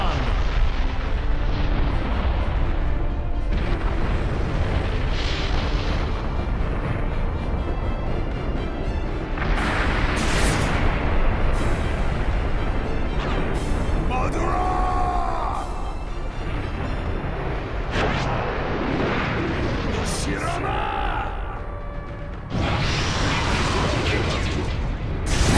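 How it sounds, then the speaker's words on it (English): Naruto Shippuden: Ultimate Ninja Storm 4 game audio of the Wood Style thousand arm cannon attack: a dense, loud, sustained roar of rumbling blasts and impacts with a few sharp whooshing effects, under voices shouting in the game. "Sage Art, Wood Style, Shinsu Senshu, veritable thousand arm cannon."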